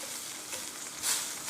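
Tomato pizza sauce with pepper and a splash of added water sizzles and bubbles in a pan, a steady soft hiss that swells briefly toward the end, with no voices.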